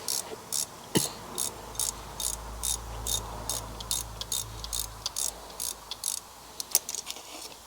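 A ratchet wrench loosens a car's middle spark plug, giving a steady run of rapid, close clicking strokes with short pauses between them, over a faint low hum.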